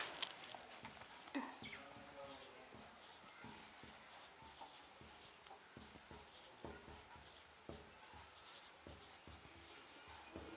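A pen scratches across paper as a Class 10 science answer is written out by hand, producing soft, steady strokes and taps in a quiet room, faint and close, with no one talking.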